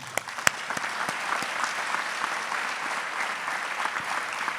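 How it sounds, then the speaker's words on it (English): Audience applause at a reception for Sri Sri Ravi Shankar at the Jain Cultural Center Antwerp, a steady wash of many hands clapping with a few sharp nearer claps at the start, moderately distant. "welcome Guruji Sri Sri Ravi Sankarji with a huge round of applause"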